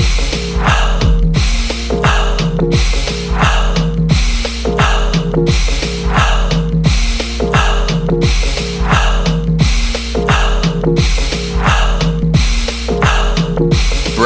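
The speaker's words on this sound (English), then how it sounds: "Alkaline breathing." Rapid rhythmic alkaline breathing, a breath-of-fire exercise of short forceful exhales through the nose, repeats steadily in regular bursts over a constant music bed during a guided energizing breathwork round.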